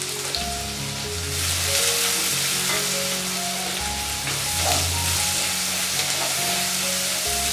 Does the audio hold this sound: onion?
yes